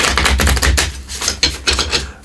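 Close, crisp riffling and tapping of fortune reading cards being shuffled by hand, a quick burst of rapid flutters followed by a pause and a few more snaps.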